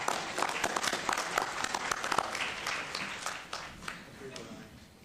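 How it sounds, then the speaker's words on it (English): An audience at a city council meeting applauds for a high school STEM club receiving matched funding, a moderate patter of clapping that gradually thins and fades. "Round of applause."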